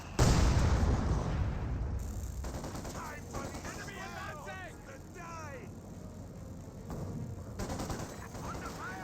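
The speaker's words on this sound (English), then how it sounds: "That was 120mm mortar that time." A 120mm mortar shell exploding amid battlefield gunfire in Company of Heroes 2, opening with a loud blast that rumbles away, followed by scattered distant shots and clattering, with a voice talking over it.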